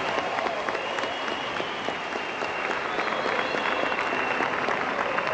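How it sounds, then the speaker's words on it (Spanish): A studio audience at a Venezuelan presidential television broadcast claps steadily in a continuous, even wash of applause that holds throughout at moderate loudness, with no voices rising above it. "Eso merece un aplauso, un reconocimiento."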